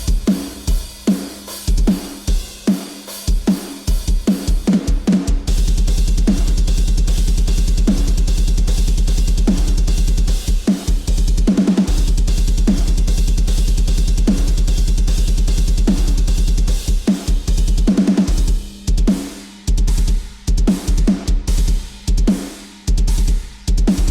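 Rock/metal drum beat programmed with GGD Modern & Massive in Logic Pro, loud punchy kick, snare and cymbal hits in a steady driving pattern with dense fills, playing alone for the full length.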